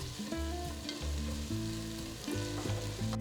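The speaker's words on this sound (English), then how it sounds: "Saute the onions till they've turned to a nice golden brown color." Golden-browning onions sauté with fresh ginger garlic paste for a kabuli pulao, a continuous crackling fry with stirring beneath louder background music.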